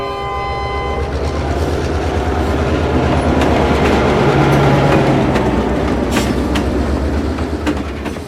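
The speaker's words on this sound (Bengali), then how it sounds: "ট্রেন এলো 10 মিনিট লেটে।" A train arrives as a sound effect in a radio drama: a horn sounds at the start, then a loud, steady rumble of wagons with clickety-clack rhythm rolls on throughout.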